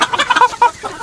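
Sonali country chickens cluck on a poultry farm, a loud close burst of short choppy clucks in quick succession.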